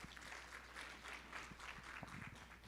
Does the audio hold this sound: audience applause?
yes